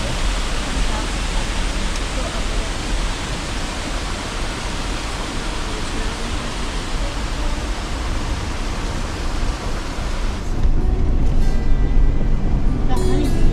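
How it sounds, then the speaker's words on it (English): A waterfall along the Roaring Fork trail in the Smoky Mountains roars as a dense, continuous broadband rush that stays loud throughout and grows heavier in the low end near the end. "That's a waterfall."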